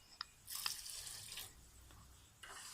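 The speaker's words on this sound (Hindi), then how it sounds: "आधा गिलास पानी डाला है मैंने इसे," Half a glass of water poured into a pan of roasted fenugreek and moong dal, a soft splashing pour lasting about a second, faint and close, with small clinks and drips around it.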